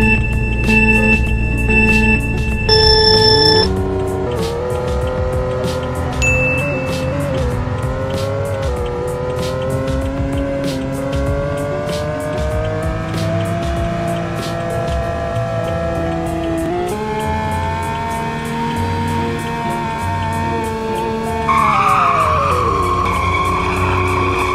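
A 2019 Silhouette Carbon SP704 supercar in the Roblox game Greenville, its engine revving and climbing through gears with repeated screeching tire squeals during a speed run, loud and continuous with no talking.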